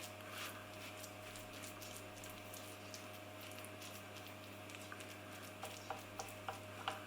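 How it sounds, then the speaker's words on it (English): A metal spoon presses and levels flapjack mixture with honey in a baking tin, giving faint soft scraping and tapping, with a few small clicks near the end over a steady low hum. "I'm just going to use this metal spoon to press it down."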